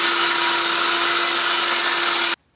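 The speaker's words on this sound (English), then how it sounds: "I'm just ripping it with the circular saw" A circular saw rips lengthwise through a wooden post in a garden, a steady loud high whine with a constant tone that holds evenly, then stops abruptly.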